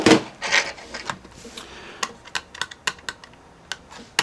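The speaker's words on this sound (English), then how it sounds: "Here's where I go crazy unscrewing things." Screws being backed out while a Vaio laptop is taken apart: a run of small, sharp clicks and scratchy metal-on-plastic ticks at irregular intervals, close and fairly quiet, with no talking.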